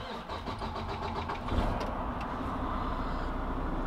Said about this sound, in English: We just started this big semi-truck.